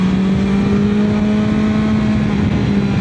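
A BMW S1000XR motorcycle with a modified exhaust runs loudly and steadily up close, its drone held at a constant pitch for about three seconds, with no voices.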